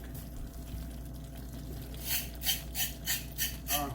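A carrot for lamb stew is scraped in a run of five rhythmic rasping strokes after a quiet start, close and fairly loud over a low steady hum.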